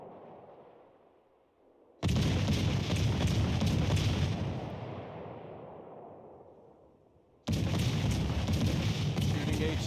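Naval guns firing HE shells in World of Warships Legends: two loud, booming salvos, each a sudden heavy blast rolling into a long rumbling decay, the first fading gradually before the second bursts in.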